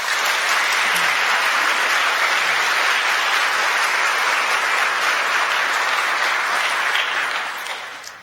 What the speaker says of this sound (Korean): 여러분들 인사드릴 때 환영의 박수 부탁드리겠습니다.